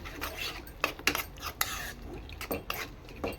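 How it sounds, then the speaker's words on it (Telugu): Milk cream is stirred into a paneer masala curry in a pan, a spoon scraping and clinking against the metal in irregular bursts over a faint simmer, fairly quiet. "నేను పాలమీగడ వేసి కలుపుతున్నాను"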